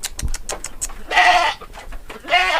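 Goats penned on an Indonesian goat farm give two loud, drawn-out bleats close by, with light knocks and shuffling from the pen between the calls.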